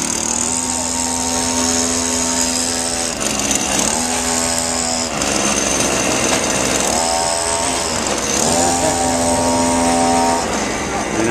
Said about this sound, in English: We have a go-kart running off of the gasoline made from mixed plastic oil.